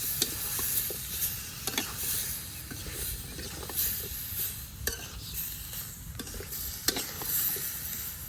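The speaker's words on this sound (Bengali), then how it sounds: "তরকারিটা খুব ভালোভাবে কষিয়ে নিচ্ছে," Vegetable curry with small river fish (tengra and puti) sizzles in a pan as it is stirred and sautéed, a steady frying hiss broken by repeated scraping strokes of the spoon, close up.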